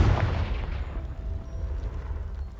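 A Confringo blasting spell strikes a pile of debris in a Hogwarts video game, a loud low burst at the start that decays into a rumbling, crackling tail.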